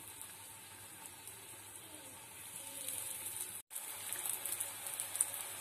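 Sweet potato cutlets fry in oil in a kadai, producing a steady, faint hiss of sizzling that runs throughout with a brief dropout near the end.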